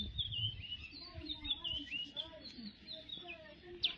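Sparrows and other birds chirp and twitter busily on a morning after a drizzle has stopped. Many bright overlapping calls come from fairly close, with low rumbling background noise and faint voices underneath.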